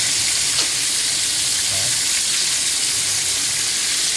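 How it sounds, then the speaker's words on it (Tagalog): Chicken pieces fry in hot oil with a dense, continuous sizzle and crackle, close and loud, with occasional faint pops and no talking. "Nagpiprito naman tayo ng manok"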